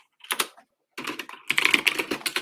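Bursts of keyboard typing on a computer keyboard during app coding work, with quick clustered key clicks in three runs separated by short pauses, close and moderately loud.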